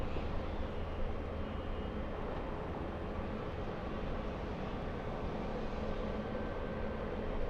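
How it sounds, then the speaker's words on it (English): A fully loaded China Eastern Boeing 777 bound for Shanghai, taking off at full throttle from runway 24 left; a steady, broad jet roar holds at an even level throughout, heard from a distance with no voices. "China Eastern 586 to Shanghai, big one, fully loaded, at full throttle, on a 24 left."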